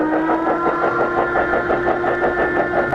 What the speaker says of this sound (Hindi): इस प्रकार की सीटी आमतौर पर युद्ध श्रेणी के WD क्लास के मीटर गेज इंजनों में लगाई गई थी, जो कुछ इस प्रकार से बजती थी।